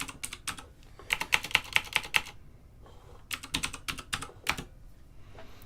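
Bursts of quick typing on a computer keyboard at a console, clustered keystroke runs separated by short pauses, close and fairly quiet with no talk.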